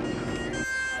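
An ambulance siren wails steadily at an emergency scene, its tone holding and then shifting pitch partway through, fairly loud over a constant background rumble.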